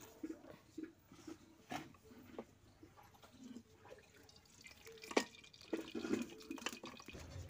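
Cooking oil is poured into a wok (kadhai) on a village stove, giving faint, scattered liquid drips and small splashes. The sounds are quiet, close and irregular, with no talk.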